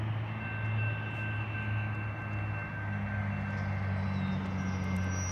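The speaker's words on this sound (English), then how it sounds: "I definitely see a train approaching." A steady, low rumble of a two-engine Union Pacific local freight train rolling nearby along I-80 in Nevada, its heavy drone holding level with a faint high whine above it, no voices.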